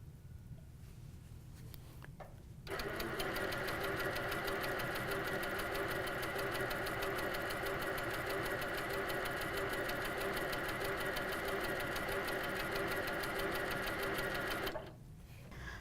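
HQ Sweet Sixteen sewing machine stitching in one steady, continuous run, a fast even mechanical chatter starting abruptly and stopping abruptly, fairly loud with no talking.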